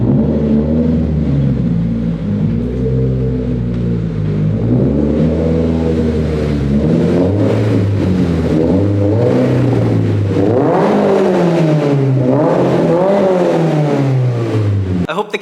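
A 2022 Subaru BRZ fitted with a Greddy Evo GT catback exhaust revs repeatedly in a shop, its loud engine note climbing and falling in steady sweeps at close range.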